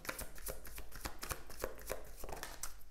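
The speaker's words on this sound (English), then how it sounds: "Let's shuffle." A deck of tarot cards is shuffled by hand close up, giving quiet, rapid, papery riffles and taps in an uneven rhythm throughout, with no voices.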